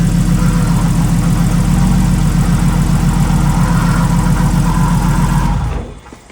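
A drift car's engine idles loudly and close with a rough, knocking undertone for about five and a half seconds, then abruptly cuts off into silence.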